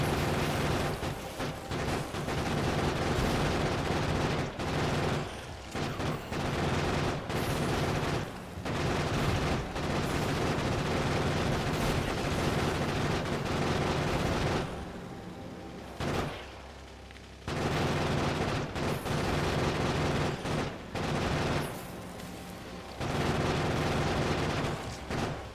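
Grenades and heavy gunfire in Factorio: Space Age on Fulgora, a near-continuous barrage of loud booms and rattling blasts, broken by a few brief quieter gaps.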